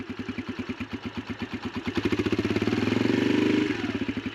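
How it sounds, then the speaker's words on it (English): Yamaha TTR125 dirt bike idling with a fast, even putter, then given a little throttle so the engine rises briefly and drops back toward idle, close by. "just try to go a tiny bit, give it a little bit of throttle."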